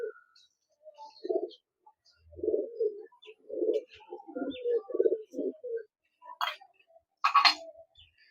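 Kaldoma pigeons in a loft coo in a series of low, soft, near calls with short gaps, joined by a few sharper chirps and clicks toward the end.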